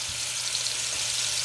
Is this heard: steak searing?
yes